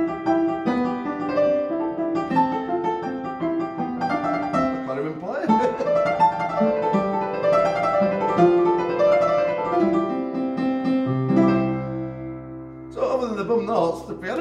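Yamaha CLP-775 digital piano on a harpsichord-style voice playing a Mozart piece, bright plucked notes in a lively melodic line, clear and close, with a brief pause near the end.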